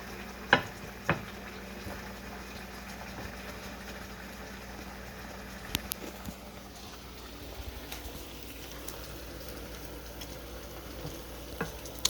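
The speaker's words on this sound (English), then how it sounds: "pan frying with some regular white onion, diced myself, and some olive oil in a non-stick skillet" Soft, steady sizzle of tilapia and diced white onion frying in olive oil in a non-stick skillet, with a few sharp clicks and clatters of a utensil against the pan.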